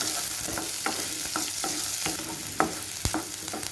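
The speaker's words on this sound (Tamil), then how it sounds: "ஆனியன் நல்லா வதங்கி வரட்டும்." Chopped onions sauté in a hot pan for a potato peas milk curry, with a continuous sizzle and repeated scraping strokes of a spoon against the pan, close and fairly loud throughout.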